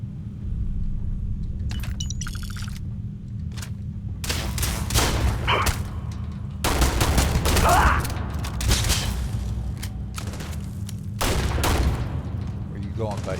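Gunfire in the video game Starfield, several loud bursts of shots with rumbling impacts spread across the scene, mixed with a voice talking over the combat.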